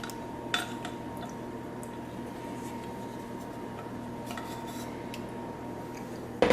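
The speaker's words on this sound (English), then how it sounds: "you're probably hearing that whirring sound in the background. That is the oven preheating" A preheating oven gives off a faint, steady whirring hum in the background of a kitchen, with a few quiet clinks of baking utensils over it.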